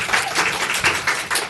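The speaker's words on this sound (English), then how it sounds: "There's no need to applaud us." A short burst of clapping from a small group in a Virginia Senate committee hearing, brief and fairly close, fading quickly.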